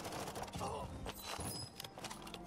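Rapid bursts of gunfire in the video game Warzone 2, with sharp cracks and thuds, fairly quiet and distant-sounding, against a busy, noisy background.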